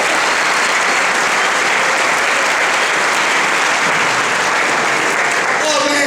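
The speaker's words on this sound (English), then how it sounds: "Let's give him a big round of applause." Sustained, dense audience applause at a 2019 convocation in New Orleans, loud and steady throughout with no pauses, filling the hall as a speaker is welcomed to the podium.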